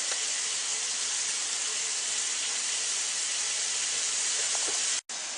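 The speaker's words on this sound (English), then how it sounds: "Just let the vegetables cook for maybe a minute or so. It's very quick because I'm using medium to high heat already." Mixed vegetables for a shrimp stir-fry cooking over medium-high heat, a loud steady hiss of sizzling close up, unbroken until a brief cut near the end.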